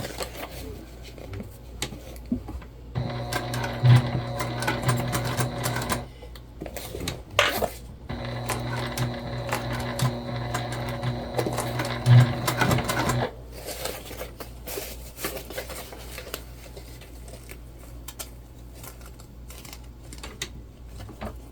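A sewing machine stitches a Winona crossbody bag in two steady whirring runs of several seconds each, separated by a short pause, with quieter handling noise following.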